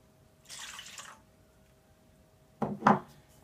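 Warm water poured into a doughnut dough mixture in a bowl, a brief gentle splash, then a couple of quick, louder knocks close by in a quiet kitchen.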